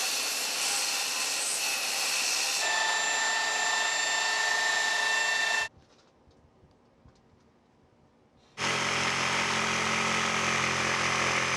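A DeWalt circular saw with a fresh blade cuts a board, a loud, high whining buzz that shifts pitch partway through, falls silent for about three seconds, then starts again at full power.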